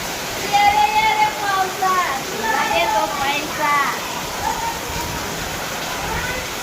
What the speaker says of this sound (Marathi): अचानक पाऊस आला जोरदार पाऊस आला तेव्हा पत्र्यावर किती वाजते पाऊस